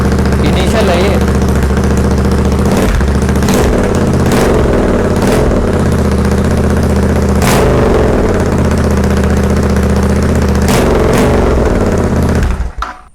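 A Royal Enfield Interceptor 650 with its stock exhaust idles with a deep, steady throb, punctuated by several sharp throttle blips and revs before cutting off at the end.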